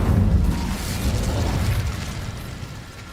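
An Incendio fire spell goes off in Hogwarts Legacy with a deep, rumbling whoosh that swells at once and slowly fades over a few seconds, with no voices.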